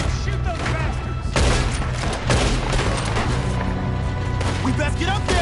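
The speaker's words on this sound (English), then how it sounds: "Why don't you shoot those bastards?" Gunfire in the video game Red Dead Redemption II, rapid overlapping shots and booming impacts through a loud battle mix, with game characters talking throughout.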